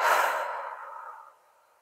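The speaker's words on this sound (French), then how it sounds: "Et ouvre la bouche, expire." A single soft breath is let out through the mouth during a guided meditation, starting airy and full, then thinning and fading over about a second and a half.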